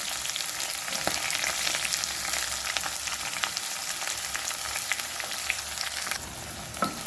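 Onions frying in hot oil with curry leaves and green chillies: a continuous bright sizzle with small crackles and pops and occasional stirring clicks, close and steady.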